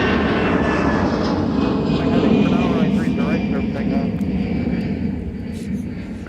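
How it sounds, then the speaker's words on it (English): An Airbus A319 airliner at Minneapolis–Saint Paul airport, heard as a loud, steady jet roar that gradually fades, with people talking over it. "we'll have an interrupting A319"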